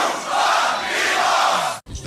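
A large crowd at a live beatbox competition shouts in unison for just under two seconds, loud and sustained, then stops abruptly before a brief burst of noise.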